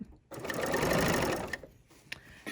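A sewing machine stitches through a tote bag strap and pocket in one short, fast, buzzing burst of about a second, then stops, followed by a couple of faint clicks.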